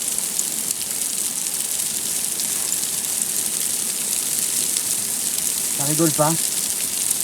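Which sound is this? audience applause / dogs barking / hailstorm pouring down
hailstorm pouring down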